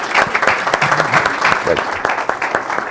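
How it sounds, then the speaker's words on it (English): Audience at a City of Chino council meeting applauds, a burst of scattered hand claps of varying strength running throughout, with some voices mixed in. "Let's have a round of applause."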